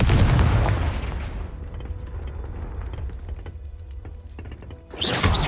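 In Hogwarts Legacy, a Confringo spell goes off as a loud explosive blast that fades into a rumbling tail, followed near the end by a second sharp burst.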